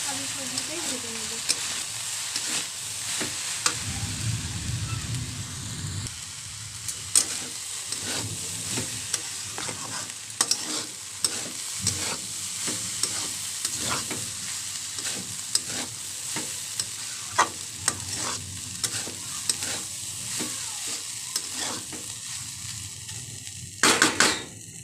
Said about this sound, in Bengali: ওই জন্য আমি সবজিটাই ভেজে নেব।